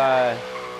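Maserati GranTurismo drifting around a roundabout in Forza Horizon 3, a heavy car with its engine note sliding downward over a brief skid, loud at first and then easing off.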